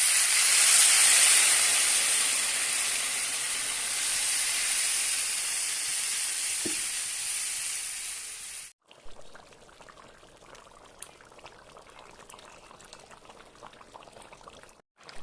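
Water poured onto fried katla fish in a pan sets off a loud hissing rush of steam and bubbling, then drops away abruptly to a quiet simmer with faint bubbling.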